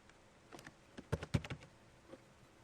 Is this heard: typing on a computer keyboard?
yes